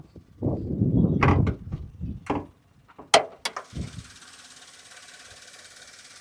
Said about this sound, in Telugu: డాష్ బోర్డ్ కూడా బానెట్ కూడా తీసి చూపిస్తాను చూడండి